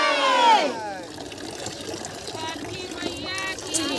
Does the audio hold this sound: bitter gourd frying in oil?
no